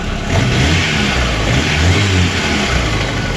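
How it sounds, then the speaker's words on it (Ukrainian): A VAZ 2109 car engine runs loudly up close after a cylinder head gasket replacement, its low rumble rising and falling slightly as it revs, with no voices. "Ось так працює наш двигунчик."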